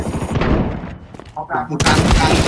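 Gunfire in Counter-Strike 2, loud bursts of shots and booms at the start and end with a brief lull in between, close and heavy, mixed with people talking excitedly.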